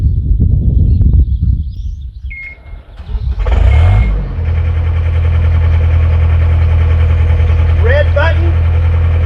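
An engine on well drilling equipment cranks and catches, then settles into a loud, steady close idle, with rumbling engine noise before the start and a few chirps up high.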